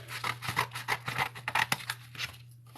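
Scissors snip through printed paper around a picture, a steady run of close, crisp cuts with short pauses between strokes and a low steady hum beneath.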